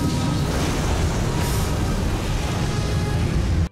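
A film explosion booms as a loud, sustained roar of broadband rumble and crackle that fills the whole stretch and cuts off abruptly at the end.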